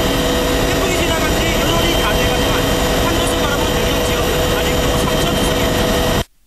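An army helicopter delivering supplies in typhoon-struck Yeongyang, South Korea, makes a loud, steady, roaring drone of rotor and engine noise that fills the scene for six seconds before cutting off abruptly.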